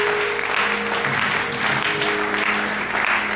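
A church congregation claps during a lively worship service, a dense, steady burst of applause filling the room from start to finish, with faint sustained tones underneath.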